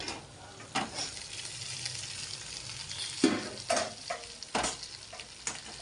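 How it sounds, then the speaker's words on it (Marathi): Okra cooks in a hot pan with a soft continuous sizzle, punctuated by several distinct scraping and stirring strokes of a spatula against the pan. "भेंडी शिजते आपली हे बघा"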